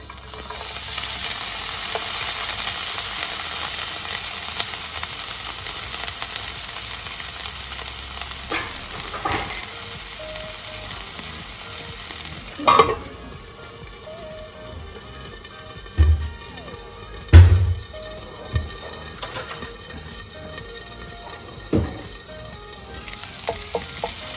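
Garlic, ginger and chilies fry in hot oil for a minced fish dish, giving a steady broadband sizzle that stays strong throughout, with several sharp utensil knocks and stirring clatters in the second half and no talking.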